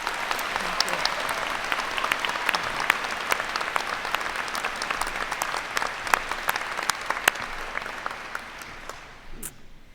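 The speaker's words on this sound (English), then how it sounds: "Could we give them one more round of applause?" Audience at a Franklin & Marshall convocation ceremony gives a loud round of applause with sharp individual claps standing out, sustained for several seconds before tapering off near the end, with speech faintly mixed in.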